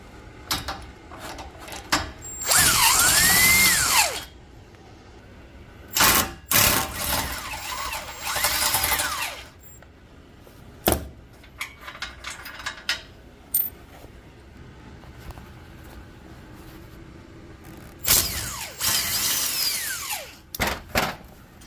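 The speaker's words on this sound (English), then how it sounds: "I've just got to take off these bolts" A power tool drives off bolts on a treadmill in several loud whirring bursts of one to two seconds, with clicks, metallic clinks and handling noise between them.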